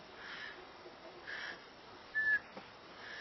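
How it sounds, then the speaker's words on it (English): Short, breathy high whistle attributed to Sasquatch, faint and distant against a low hiss of ambient background, one thin rising note with a couple of soft airy swells around it, no talking. "He does this half-hearted whistle where he's just blowing air."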